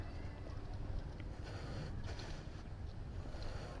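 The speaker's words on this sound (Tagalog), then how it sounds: "Mahangin din." Steady wind gusts across a high hillside shrine overlooking mountains, a continuous low rushing roar buffeting the microphone with no talking.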